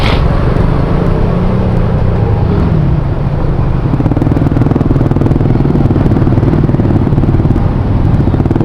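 Busy road traffic in Dasmariñas with cars and motorcycles close by, a loud continuous rumble of engines and clattering motorbikes idling and creeping along, steady throughout.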